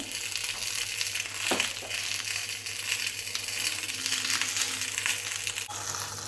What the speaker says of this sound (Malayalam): ആ വെളിച്ചെണ്ണയിൽ ആ മീനിന്ന് വെന്ത് വരട്ടെ.